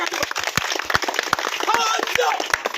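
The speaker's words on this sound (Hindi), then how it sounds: "एक बार सब लोग ये बाबा के नाम पर जरा मारो ताली" A street crowd at a snake-charming magic show in Buxar, Bihar claps in scattered, uneven bursts while someone talks loudly over them.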